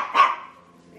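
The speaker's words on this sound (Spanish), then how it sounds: "Yo creo que le ladran a la máquina" One sharp, close dog bark in a home garden, aimed at a gardener's machine, loud and brief with a short fading tail and no talk.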